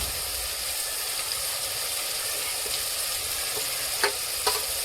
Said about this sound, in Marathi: आता ह्या मसाल्यात ही परतून घेणार मटण